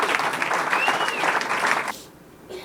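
An audience at a stand-up comedy show bursts into dense, lively applause for about two seconds, then the clapping quickly dies away into quiet room tone.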